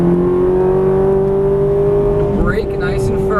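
A Ferrari 430 engine drones loud and close on a race track as the throttle is squeezed, a steady tonal roar that holds, with a voice talking over it.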